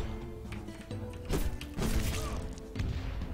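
In the video game Devious Dungeon, an enemy hurls balls, producing a few loud thuds and whacks at irregular intervals over a low game background, with no talking.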